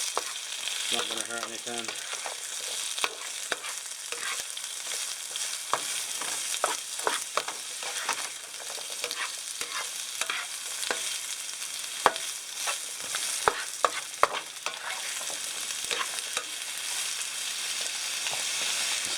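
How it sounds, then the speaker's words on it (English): Homemade tomato pizza sauce sizzling in oil while being stirred: a constant, dense frying hiss with scattered pops and spoon scrapes, close and steady. A voice briefly speaks over it. "after I've been stirring this for like a minute, 2 minutes here, I've got my tomato sauce ready to go on the pizza"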